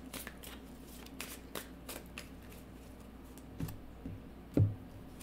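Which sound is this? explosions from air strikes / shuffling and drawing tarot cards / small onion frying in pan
shuffling and drawing tarot cards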